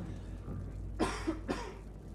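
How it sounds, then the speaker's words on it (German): Two short, sharp coughs in quick succession, close to the microphone, over a quiet room background. "Ich musste mal kurz husten."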